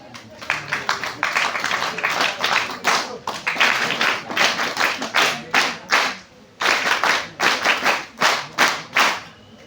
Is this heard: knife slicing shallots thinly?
no